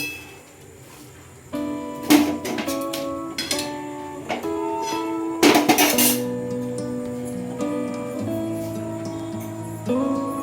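A metal lid goes onto a pot of boiling taro greens on a home stove, with several sharp clinks and clatters of metal cookware followed by a steady low bubbling hum, no talking.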